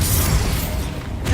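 A Bombarda blasting spell cast in Hogwarts Legacy, a single loud booming burst with a rumbling low impact that quickly fades, ending in a brief sharp crackle.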